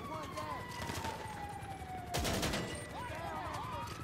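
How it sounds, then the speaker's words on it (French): An explosion in a police-chase video game about stealing chocolate bars, a sudden loud burst midway through, cutting into steady game sounds, sirens and rapid gunfire-like noise. "c'était quoi cette explosion?"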